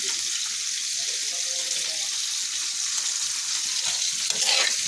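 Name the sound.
greens cooking with onion and chilli in a pan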